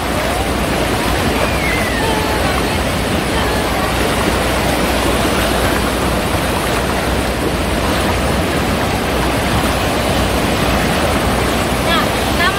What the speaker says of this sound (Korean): 파도도 오늘 낮고 좋네.